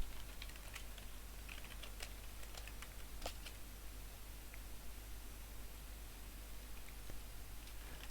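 Soft, intermittent tapping of keys on a computer keyboard as commands are typed, faint and close under a steady background hiss, with no talking.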